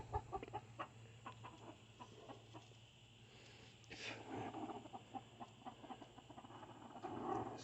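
Hens cluck in a backyard pen where an older hen has been chasing a white hen, with repeated soft clucks and short calls over steady low background hum, growing busier and louder toward the end.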